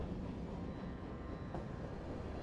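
A train rolls along with a low, steady rumble and faint rattling, heard alone at moderate distance.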